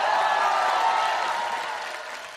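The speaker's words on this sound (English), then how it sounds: "The next team has a lot of fans in the crowd." A crowd of fans cheers for a dance team at a dance competition semifinal, a sustained broad roar that fades slightly toward the end.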